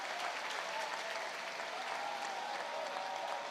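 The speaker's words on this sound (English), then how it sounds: "a pretty good crowd remained, and the part of it is loud" A baseball crowd at an Auburn versus Milwaukee game applauds and cheers in a dense, steady roar of clapping that holds evenly throughout.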